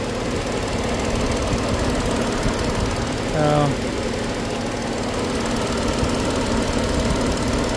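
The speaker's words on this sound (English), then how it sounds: "This thing has two electronic fans. That one's spinning." A 2013 Ford Edge's electric radiator cooling fan whirs steadily beside the running engine, a constant close broadband hum with one brief tonal squeak partway through.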